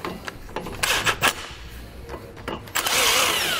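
Power tool tightening nuts on a Timbren rear suspension enhancement system of a 2014 Toyota Tacoma, heard as a few bursts of whirring and rattling with a long loud run at the end, close up in a noisy workshop.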